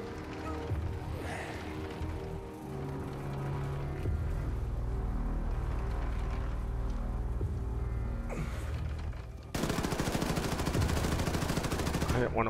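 In a Wolfenstein II or Vermintide II shooter, a quiet, tense stretch of game ambience suddenly erupts into loud, rapid automatic gunfire for the last few seconds, a dense rattling burst of shots.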